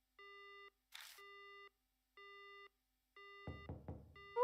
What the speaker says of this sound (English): Suddenly the phone goes down.